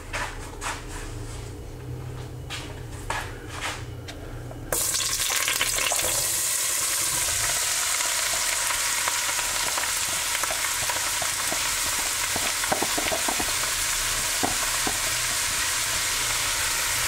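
Food frying in a pan of browned butter and oil for red beans and rice, a steady loud sizzle that jumps up sharply a few seconds in and then hisses continuously, with occasional clinks of stirring.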